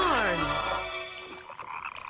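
Cartoon frogs croak in an animated kids' show, a loud, stretched, warbling croak at the start that fades into quieter background sounds.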